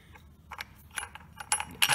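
A bolt, washer and kickstart bracket from a Honda Zoomer scooter are set down on a hard surface, giving a few close metallic clinks and rattles in quick succession, growing louder toward the end.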